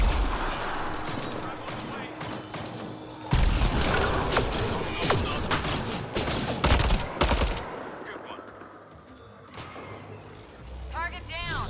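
Rapid gunfire bursts and sharp shots from a Mass Effect Andromeda firefight, loud and dense with booming impacts over a rumbling game backdrop, thinning toward the end.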